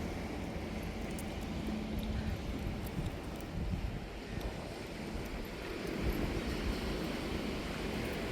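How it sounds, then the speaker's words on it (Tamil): A breeze blows along the seashore as a steady, low rushing wind with a faint wash like surf beneath it, quiet and continuous, with no voices. "நல்லா காற்று சிலு சிலுன்னு வருது"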